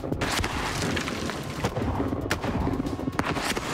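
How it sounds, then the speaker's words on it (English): A rifled artillery gun fires in a deep, rumbling boom, followed by sharper blasts and a rolling echo that keeps the sound loud and dense. "After two shots, the rifled gun is already demonstrating its superiority"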